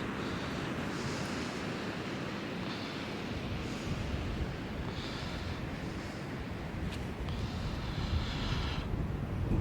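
Steady broadband wash of river water meeting an incoming tide at the mouth of the Gardner River, with wind buffeting the microphone and no talking, a constant close roar throughout.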